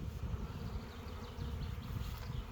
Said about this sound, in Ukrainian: Так воно є літають наші бджілки, час розширення.